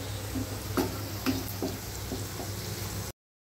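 Cauliflower florets frying in hot oil in a pan for a cauliflower fry masala: a steady, close sizzle with a few soft stirring scrapes, ending abruptly in silence.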